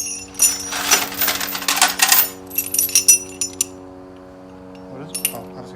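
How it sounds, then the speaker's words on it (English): Metal chains, pulled from around a Ford Flathead V8 on an engine stand, clink and jangle loudly for about two seconds, then a few scattered lighter clinks and rattles follow before things quiet down. "Now, I brought all the chains out."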